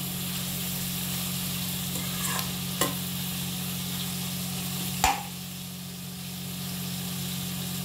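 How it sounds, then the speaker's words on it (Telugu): Beans and mixed vegetables stir-fried over high heat for a vegetable curry, with a steady broad sizzle and a constant low hum, broken by a few brief clinks of a spatula against the pan. "కాబట్టి హైలో పెట్టి బాగా వేద్దాం"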